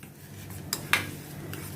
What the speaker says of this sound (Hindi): इन सभी को मैं मिक्स करती हूँ अच्छी तरह से ताकि सभी मसालों का कच्चापन निकल जाए